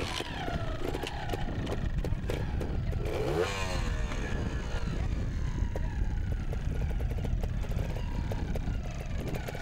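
A trials motorcycle engine runs at a distance under a steady outdoor rumble, with throttle blips as the rider starts off and tackles rocks at a trials event.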